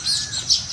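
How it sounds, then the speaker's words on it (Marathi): Sparrows chirping in the morning on a farm, a quick burst of high, bright tweets, fairly close and clear, lasting under a second with no talk. "चिमण्या सकाळ सकाळपर्यंत एवढ्या भारी आवाज करायल्यात."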